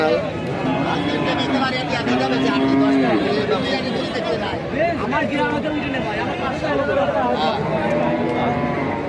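Cattle lowing amid a busy livestock market selling animals for Eid sacrifice, with steady crowd chatter and voices throughout.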